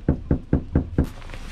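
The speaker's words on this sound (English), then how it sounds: "Knock on the door." Five firm knocks strike a door in an even, quick rhythm, close and loud, followed by quiet.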